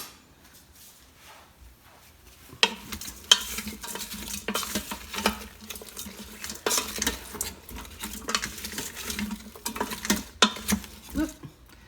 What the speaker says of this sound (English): the next thing that we're going to do is stir it up. Let me get my spoon here, or my spatula